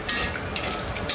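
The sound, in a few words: chillies frying in a pan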